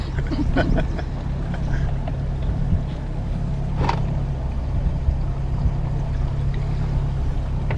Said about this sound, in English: Nice little redneck pontoon boat.